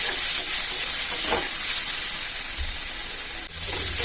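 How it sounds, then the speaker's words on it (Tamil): Onions sautéing in a pan with a little salt, a steady loud frying sizzle with brief stirring scrapes, close up and without talk. "வெங்காயம் வதங்கட்டும்"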